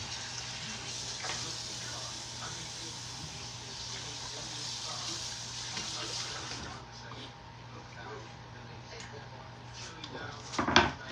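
Tap water runs steadily into a kitchen sink for rinsing meat, a continuous close splashing stream that stops near the end, followed by a brief clatter.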